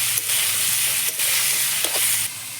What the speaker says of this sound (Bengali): ভেজে রাখা আলুগুলো দিয়ে দিচ্ছি সেদ্ধ ডুমুরগুলোকে দিয়ে দিচ্ছি দিয়ে ভালো মতো করে কষাবো